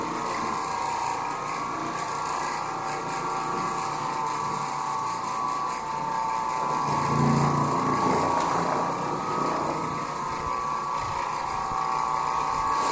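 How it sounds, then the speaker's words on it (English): An Oreck Orbiter bonnet carpet cleaning machine runs continuously with a steady whirring, rattling mechanical drone, close and even in level, swelling slightly around the middle. "you can't beat old bonnet cleaning for a quick, thorough carpet cleaning"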